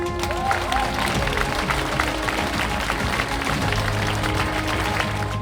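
Applause from an audience at a baccalaureate graduation ceremony, a steady wash of many hands clapping at moderate, somewhat distant level for several seconds, with faint voices mixed in.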